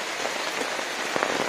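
Monsoon rain falls on the Karnataka coast, a close steady patter of drops striking a surface, with a few sharper splashes standing out near the end and no talking.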